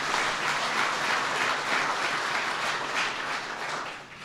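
An audience at a veterans event for the Vice President applauds the Secretary of Veterans Affairs with steady, dense clapping that fills the room without pause, fading slightly toward the end.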